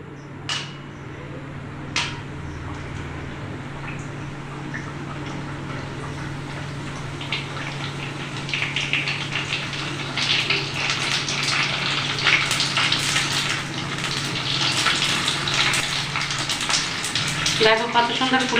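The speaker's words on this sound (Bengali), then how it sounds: "তেলটা দেখো গরম হয়ে গেছে, এবার আমি ফুচকাগুলা ছেড়ে দেব।" Fuchka puris frying in hot oil in a wok, a steady bubbling sizzle that swells and grows denser midway, with a low hum beneath and a brief clatter near the end.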